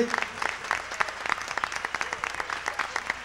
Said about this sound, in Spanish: Un aplauso, vamos a bien grande